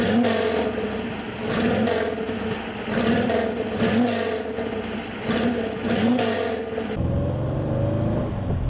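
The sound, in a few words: 1974 Porsche 914 new engine starting and running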